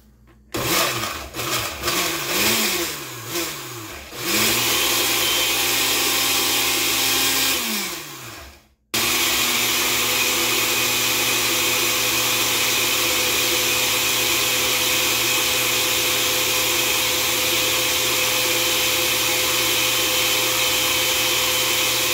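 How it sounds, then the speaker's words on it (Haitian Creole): An electric blender whirs in short pulses that rise and fall in pitch, stops for a moment, then runs loud and steady for a long stretch while blending a natural home remedy. "Ok, qu'on y a, nous allons blender."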